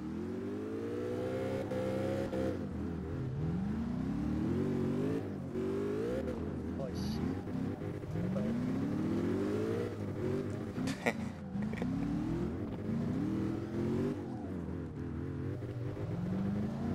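Cars drifting in CarX Drift Racing Online, a Shadow XTR build, engines revving high and falling in repeated sweeping rises as they slide, loud and continuous, with someone talking over it.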